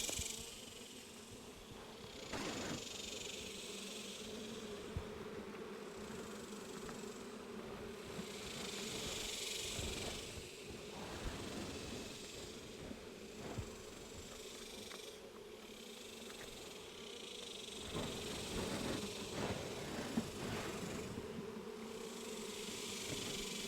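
Italian honeybees in an open hive give off a steady, close droning hum, with small knocks and clicks from hive handling scattered through.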